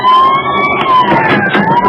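A wailing police car siren from a radio drama rises and falls in pitch, loud and continuous across the whole clip, with a vehicle engine rumbling beneath it.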